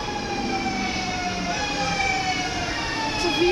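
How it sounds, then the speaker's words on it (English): A VIRM-4 double-deck electric train pulls into the Schiphol Airport railway station in Amsterdam, its motors giving a steady whine with several gliding tones over a constant rumble. No one speaks. "there's an incoming train at the railroad station of Schiphol Airport in Amsterdam"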